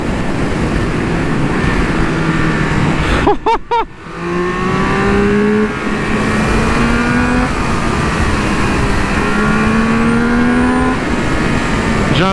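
A Triumph Speed Triple 1200 RR motorcycle accelerates hard and loud up through the gears, with a brief sharp pause at a quick shift before the engine's rising whine climbs again, close and alone without talk.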